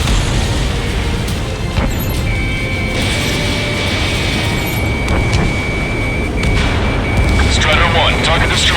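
A missile blows up in the video game Ace Combat 7 amid a loud, constant roar of jet engine and combat noise. Radio voices talk over it.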